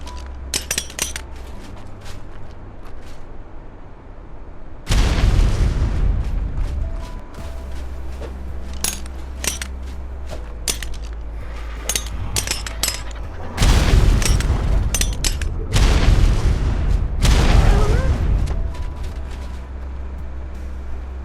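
Grenades exploding in the survival game Ark: Scorched Earth: several loud, heavy booms land over about twenty seconds, some in quick succession, each decaying into rumbling debris over a low background hum.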